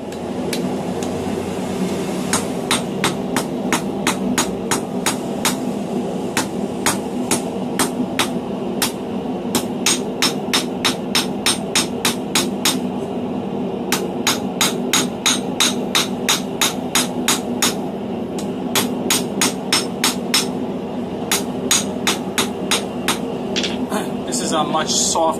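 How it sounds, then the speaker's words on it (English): Blacksmith striking steel on an anvil with a softer medium carbon hammer while shaping an old knife into a new one, working near the anvil's edge: a long, steady series of sharp ringing blows in quick rhythmic bursts with brief pauses, over a low background hum. "a much softer hammer, medium carbon hammer, so when I'm working so close to the edge of my anvil"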